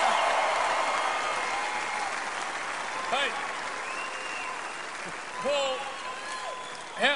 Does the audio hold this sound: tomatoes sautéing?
no